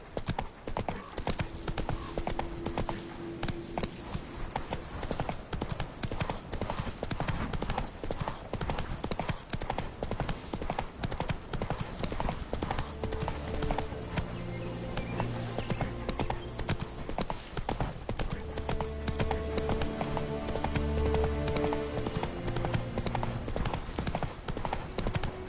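Horse hooves clip-clop in a steady, continuous gallop throughout a ride in The Witcher 3, with a game music score rising underneath in the later part.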